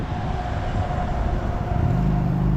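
A Long Island Rail Road train pulling out of Lynbrook station rumbles steadily on the rails with a continuous low roar and a faint high whine, rising slightly toward the end.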